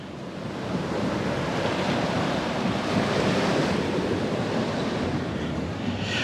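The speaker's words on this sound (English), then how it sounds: "Sorry for the noise of the Pacific Ocean." Pacific Ocean surf breaking steadily on the beach at Las Peñitas, Nicaragua, a loud, continuous wash of waves with wind noise and no voices.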